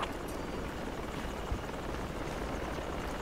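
Rotor thump and turbine whine of an enemy helicopter landing in a military video game, steady and fairly close throughout, with no talk.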